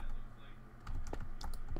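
Computer keyboard typing during an Eggwars game session, a few quick clusters of key clicks over a steady low background hum, with no talk.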